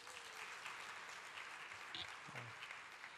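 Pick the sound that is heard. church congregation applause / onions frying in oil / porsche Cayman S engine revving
church congregation applause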